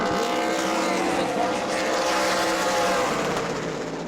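Stock race cars roar around New Smyrna Speedway, a continuous loud engine drone with shifting pitch as the pack passes close by.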